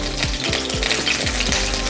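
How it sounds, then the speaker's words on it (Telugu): Eggplant pieces frying in hot oil with cumin and curry leaves, a steady sizzle under repeated rhythmic clinks of pieces dropping into the pan roughly every half second. "మనము బాగా వేగిన నూనెలో ఇలా వంకాయలన్నీ వేసేసుకోవాలన్నమాట"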